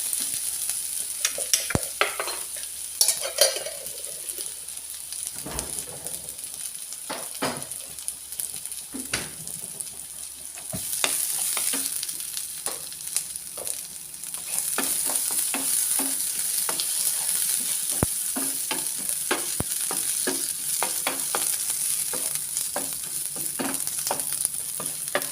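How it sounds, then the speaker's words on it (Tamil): Ginger garlic paste sautéing in oil in a pan for jeera rice, a steady close sizzle with frequent light scrapes and taps of a spoon stirring throughout, no speech. "இஞ்சி பூண்டு பேஸ்ட் வந்து கொஞ்சம் நல்லா வதங்கட்டும்,"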